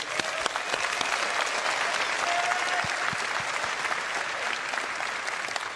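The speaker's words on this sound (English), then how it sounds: "please give a round of applause for Tyler Wicken" Audience at CitizenCon 2024, a live Star Citizen convention, applauding: dense, even clapping from a large crowd that holds steady for several seconds, with sharper individual claps standing out near the front.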